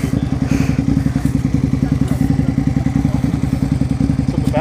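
A motorcycle with its exhaust baffle removed idles close by, giving a loud, rapid and slightly uneven low thumping beat with some metallic clatter, and it continues without a break.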